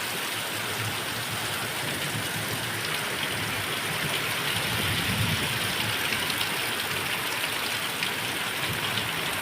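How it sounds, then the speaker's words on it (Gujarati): Heavy rain driven by wind, a dense, continuous roar of downpour with broad hiss and gusting rumble, loud and unbroken throughout with no voices. "પવન ને વરસાદ ને બધું ભેગું છે ભારે વરસાદ આવે છે"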